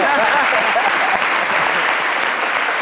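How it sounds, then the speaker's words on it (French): Steady, loud applause from a studio audience during a midday talk show, dense continuous clapping that fills the whole stretch with no voices on top. "Il applaudit."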